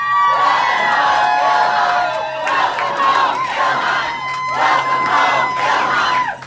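A crowd of over 100 people cheering and shouting to welcome Ilhan Omar home at a Minnesota airport, loud and close, with swelling waves of whoops and chanting voices.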